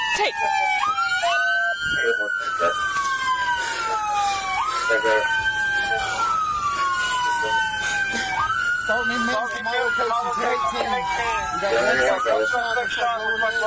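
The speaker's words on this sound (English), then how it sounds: "Go turn that siren off." A police car siren wails in repeated rising and falling sweeps, loud and close, running continuously for over ten seconds during a police shooting scene, with shouting voices and commotion around it.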